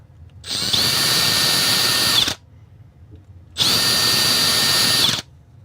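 A Makita DHP 486 cordless drill runs in two close, loud bursts of about two seconds each, a steady high motor whine with a short quiet gap between the bursts and no speech.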